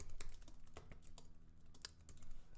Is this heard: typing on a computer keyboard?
yes